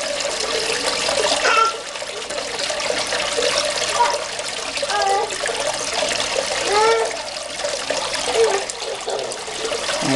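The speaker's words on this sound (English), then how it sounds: "eventually gonna hear a bubble, and the siphon is gonna be broken" Aquaponics siphon drains water until air breaks it, with continuous rushing and trickling and intermittent gurgling bubbles near the microphone.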